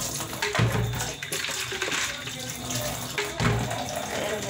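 Water from a tap runs into a bucket to fill a baby's bathwater, a steady splashing gush with a couple of louder surges, close by and unaccompanied by speech.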